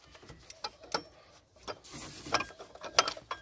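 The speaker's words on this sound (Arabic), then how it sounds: "راح استخدم المفتاح هذا عشان اثبت البكرة وانا افتح البراغي" Wrench clicks and metallic ratcheting while bolts are loosened on the power steering pump pulley of a 2007 Ford Explorer, with the pulley held steady; irregular close taps and clacks spread over a few seconds.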